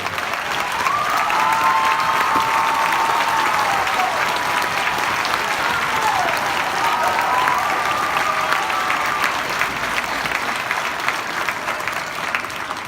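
A school band holiday concert audience gives steady, sustained applause for standing school administrators and staff, filling the hall continuously for the whole stretch with a few faint whoops and no speech over it.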